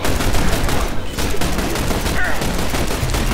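Rapid gunfire from the shooter video game The Bureau, a dense, loud barrage of overlapping shots filling the stretch, with a voice calling out now and then beneath it.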